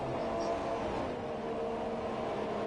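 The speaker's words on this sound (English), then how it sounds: "the McLaren going past now gives him a bit of a squeeze, but he manages to get the room and get on the inside" McLaren race car from a racing game, on the Montreal circuit in Canada, passing by: a steady engine drone with a sustained pitched tone, moderately faint and continuous with no sharp peaks.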